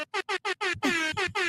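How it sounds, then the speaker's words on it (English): A sound-effect air horn blasts in a rapid series of short, loud, evenly spaced honks, then runs into a longer, denser burst with a few low thuds beneath it. "Everyone loves air horn."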